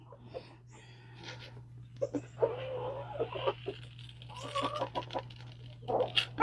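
Chickens cluck and murmur softly inside a coop, a scatter of short calls over a steady background hum.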